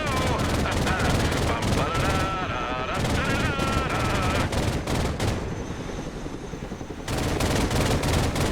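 Sustained bursts of machine gun fire in the video game Broken Arrow, loud and close, with a quieter stretch of scattered shots and rumble before heavy firing resumes; voices can be heard in the mix.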